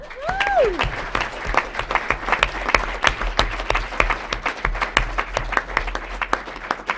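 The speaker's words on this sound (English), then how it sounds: "So round of applause for everyone." A room applauds at a city council meeting honoring a team manager and coaches, many hands clapping in a moderately loud, busy patter that holds steady, with a brief whistle at the start.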